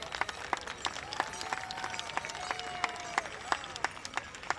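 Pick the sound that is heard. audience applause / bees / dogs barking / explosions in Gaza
audience applause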